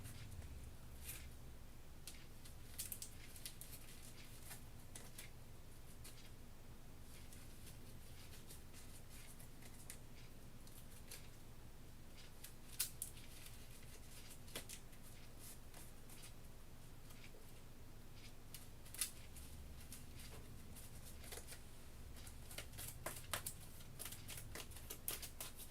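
Cards for the Kingdom Death: Monster board game are shuffled, giving soft, continuous riffling and clicking under a steady low hum, with no talk.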